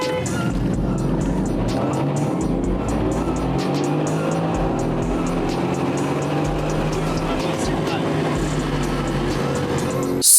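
Aston Martin Vantage V8 with a Mercedes-sourced 4-liter biturbo engine pulling hard, a loud, steady engine roar rising through the gears with some tire noise, close and continuous for the whole stretch.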